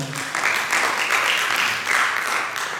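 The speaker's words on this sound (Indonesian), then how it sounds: "Boleh tepuk tangan buat kita semua" A church congregation at a Sunday service breaks into applause, a dense wash of clapping that swells and holds steady.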